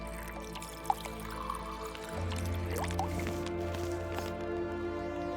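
Water used for cooking food in The Long Dark survival game gives a quiet liquid pouring and dripping sound with a few soft drips, then a low steady simmer-like fill that continues to the end.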